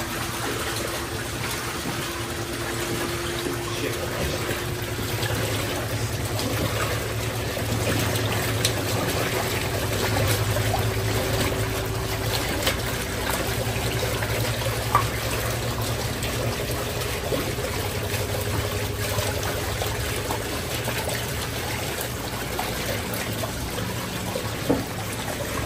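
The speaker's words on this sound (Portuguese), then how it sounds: "É que também tem muita água, né?" Running water pours steadily into a large washing tub, a continuous mid-level rushing hiss with a low mechanical hum underneath throughout.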